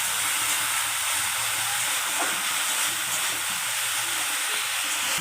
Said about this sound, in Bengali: মশলাটা একটু কষে নিতে হবে।